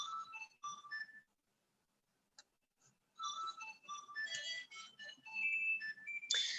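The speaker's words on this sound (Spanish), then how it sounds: "nunca suena el teléfono y justo el fijo tenía que sonar ahora" A landline telephone rings in a quiet indoor room, a bright electronic ringtone sounding in repeated bursts with a short pause, fairly faint and alone.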